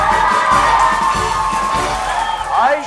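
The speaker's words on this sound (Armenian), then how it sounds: "ծափահարություններ" An audience, with many children's voices, cheers and shouts loudly and continuously, with excited rising whoops near the end.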